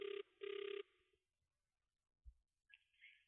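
A telephone rings with two loud electronic trill bursts, close and clear, followed by quiet pauses and a faint handset pickup clatter.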